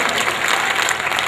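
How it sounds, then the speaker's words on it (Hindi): Audience clapping at a mushaira poetry gathering in Mumbra, a short, dense burst of applause from a crowd. "आप इजाजत दीजिए तालियों से"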